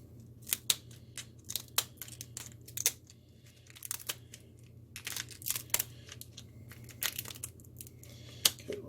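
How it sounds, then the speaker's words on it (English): Kitchen shears snip through lobster tails down the back in a string of sharp crunching cuts and crackles of shell. The sounds come close and irregular, with no talking, over a low steady hum. "What you want to do is cut them down the back with some shears."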